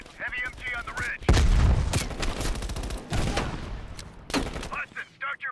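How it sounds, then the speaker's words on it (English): Heavy machine gun fire in the Call of Duty: Black Ops Cold War video game, loud sustained bursts of rapid shots and booms, with brief radio-style voices before and after. "Hudson, heavy MG on the ridge."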